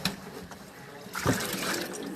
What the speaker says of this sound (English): I'm putting water on the inside of the shoe